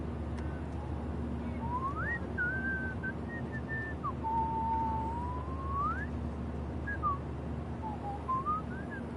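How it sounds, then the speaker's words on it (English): A game character in Life is Strange whistles a wandering, sliding tune of several phrases, clear and fairly close over a steady low hum of background noise, with no talking. "Do you mind not whistling?"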